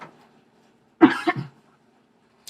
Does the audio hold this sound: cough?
yes